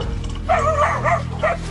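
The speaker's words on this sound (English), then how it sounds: "The backyard reveals more dogs, painfully thin and clearly unsocial." Painfully thin, unsocialized dogs in a backyard give a few short yips and barks at close range over background noise.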